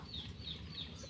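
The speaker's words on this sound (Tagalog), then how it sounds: "Guys, kita yung manok." Soft, repeated high clucking from a chicken, three or four short calls spaced evenly over a low, steady background rumble.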